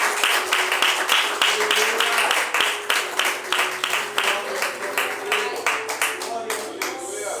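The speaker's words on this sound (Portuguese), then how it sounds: "Se você pode, aplauda Jesus nessa noite." A church congregation claps for Jesus at an evening service, steady rhythmic clapping over roughly seven seconds with a voice speaking faintly beneath it.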